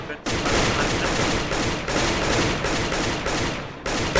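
Sustained rapid automatic AK-47 gunfire in the Roblox game Super Hero Tycoon, loud and close, with brief pauses between long bursts.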